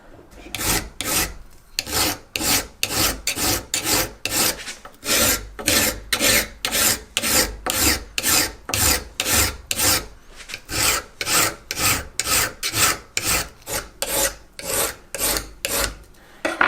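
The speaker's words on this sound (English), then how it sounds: "we just spent a little bit of time just getting that stainless steel version squared off" A file rasps in long, regular back-and-forth strokes along the spine of a stainless steel knife to square it, loud and close with about two strokes per second and brief pauses.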